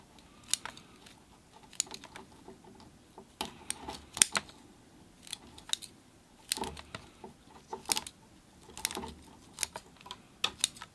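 Pruning scissors snip back the roots of an orange bonsai tree, giving a series of crisp, separate clicks and cuts spaced irregularly over a quiet background.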